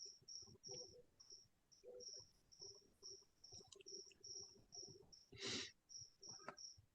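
Crickets chirp in an office, a steady run of short, evenly spaced high pulses continuing throughout, with faint room noises underneath.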